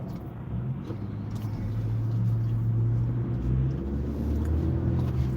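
A car driving at night on the I-94 expressway in Detroit, with a steady low engine and road rumble that holds close and even throughout, without talk.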